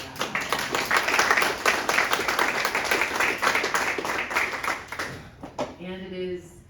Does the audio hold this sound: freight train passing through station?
no